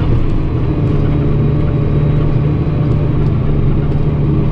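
A tractor with front-axle drive engaged labours in a Danish field while ploughing with a Lemken plough, its engine a steady loud low rumble that strains and bogs throughout as the machine digs in and stalls.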